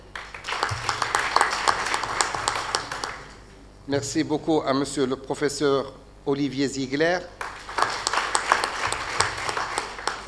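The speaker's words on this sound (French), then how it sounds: "applaudissements très soutenus de monsieur le général Baudusseau" At a French diabetes medical conference, an audience breaks into dense applause, which stops while someone speaks and then picks up again, loud and sustained, once he finishes.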